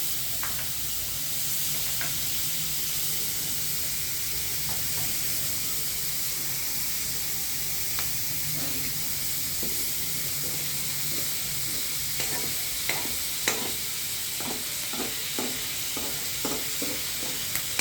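Onions sizzling in a pan for cucumber curry, a steady bright frying hiss throughout with occasional clicks and taps of a utensil moving them, growing more frequent toward the end.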